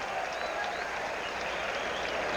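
Baseball crowd applauding steadily at a 1990 Mets vs Cardinals game, a dense, even wash of clapping and cheering that fills the stadium for the whole stretch without any break.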